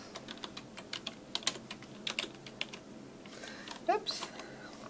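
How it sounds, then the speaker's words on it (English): Someone types on a computer keyboard with uneven, hesitant clusters of sharp, close key clicks, and a little background sound between them. "I'm the slowest typer in the world"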